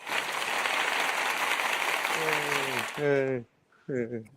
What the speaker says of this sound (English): Big round of applause for our awesome guest this evening, Mr. Lucas Twitch DeSangro